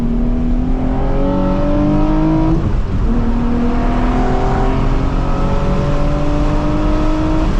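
A Nissan 350Z accelerates hard on a freeway, heard from inside as a loud, droning engine climbing steadily in pitch, a brief shift around the midpoint, then pulling up again with road and wind noise.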